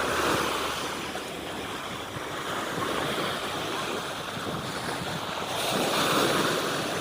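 Sea waves roll onto a white-sand beach at a North Coast hotel, a continuous broad wash of surf with gusting wind noise on the microphone, swelling slightly toward the end.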